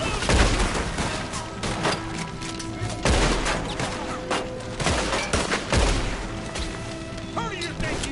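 Gunfire in a film shootout, a dense fusillade of close shots and bursts with crashing impacts, erupting repeatedly over the whole span with shouting voices mixed in.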